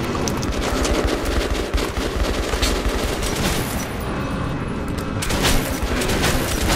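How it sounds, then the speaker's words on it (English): Shotgun fire in the video game Metro 2033, loud repeated blasts in quick succession with heavy booming reports that continue almost without a break, no voice over them. "I love this shotgun."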